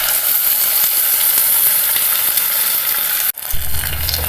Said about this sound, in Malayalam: ഇനി അതിലേക്ക് നമ്മൾ അരച്ച് വെച്ചിരിക്കുന്ന അരപ്പ് ചേർക്കാം